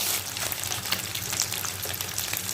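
Meat searing in a tray with a little oil and ghee, a steady close sizzle and crackle with soft popping throughout, no voices.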